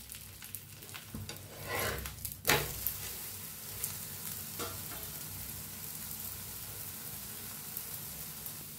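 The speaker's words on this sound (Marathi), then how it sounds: "तर दोन्ही साईड छान असं भाजूया बघा" Corn flatbread (makya dhapata) roasts in a pan on both sides, a quiet low sizzle with a few scraping stirs and a louder shuffle near the start, then settling into faint steady crackle.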